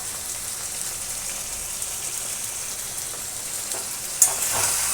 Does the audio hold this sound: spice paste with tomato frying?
yes